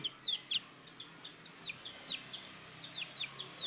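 Two small Malaysian Serama hens with broken beaks give a run of soft, high clucks and chirpy calls, repeated in loose bursts, close by against a quiet background.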